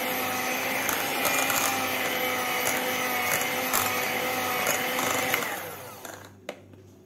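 An electric mixer whirs loud and steady, blending eggs, sugar and butter into batter for a moist Christmas fruit and rum cake, then cuts off near the end with a few faint clicks.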